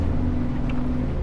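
A Honda car engine drones steadily while climbing a steep high-elevation mountain road near Mono Lake, running hot, a constant low hum with road noise and no speech.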